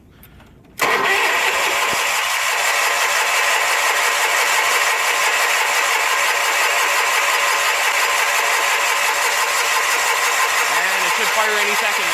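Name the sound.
Sears Suburban SS16 garden tractor engine cold starting in winter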